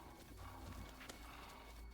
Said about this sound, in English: There's horses down here too.